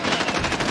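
Rapid automatic gunfire in the video game Call of Duty Modern Warfare, a dense, loud, continuous burst of shots with no gaps and no talking.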